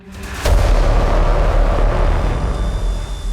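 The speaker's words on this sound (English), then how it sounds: "The horn of trailers, that deep brass and drum blast that hits you in the chest" A massive, low, booming cinematic horn blast in the style of the Inception trailers, deep brass layered with a drum hit, swells in suddenly and sustains loud and rumbling for several seconds without any voices.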